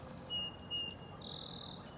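Small birds chirp and trill at a frosty sunrise by Bass River on Cape Cod, thin high calls and a rapid repeated twitter carrying over faint breeze noise, no people speaking.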